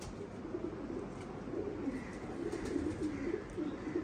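Pigeons kept by a fancier coo softly in a low, repeated rolling murmur, faint and somewhat distant with a quiet background hum and no talking.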